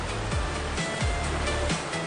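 Sea waves at Siargao wash in a continuous broadband roar, close and fairly loud, with a few low surges rolling through in quick succession.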